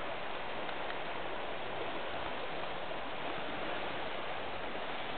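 Continuous rushing of the Tisza river's flowing water, a steady even wash of noise without breaks or voices.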